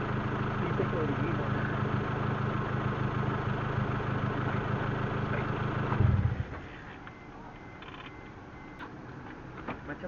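A Proton Waja MMC with an automatic gearbox and a freshly flashed ECU, suffering a high idle, hums steadily up close. Partway through, the engine note drops and the sound turns quieter and thinner, leaving faint clicks.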